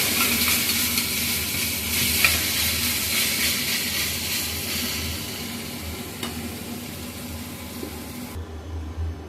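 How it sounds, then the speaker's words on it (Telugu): Ginger-garlic paste sizzles steadily in hot oil for a ridge gourd mutton curry, a dense broadband frying hiss with occasional scrapes of a stirring spoon, close and continuous, dropping off abruptly near the end. "అల్లం ఎల్లిగడ్డ మంచిగా కలుపుకోవాలి"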